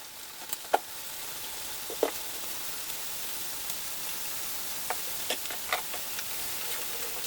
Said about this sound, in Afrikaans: Ek leer man hulle braai seker maar so 'n minuut tot 2 minute aan die kant.